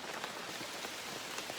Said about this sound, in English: It actually started raining harder.